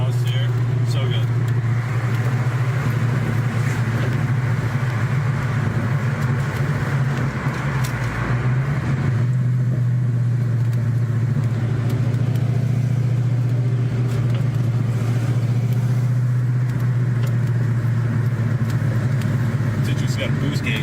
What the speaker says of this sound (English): There's no better sound than this exhaust here.